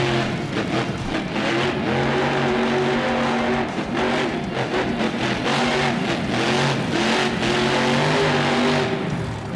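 A monster truck engine roars and revs hard during a sky wheelie at a Monster Jam show in Glendale, Arizona, loud and sustained with rising and falling pitch.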